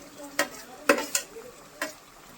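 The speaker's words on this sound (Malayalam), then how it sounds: "സുട്ടു സബോള പൊട്ടിട്ടുണ്ട് കുക്കർ." Onion frying in a cooker while being stirred, with a steady soft sizzle under a few sharp scraping stirs spaced irregularly, close by.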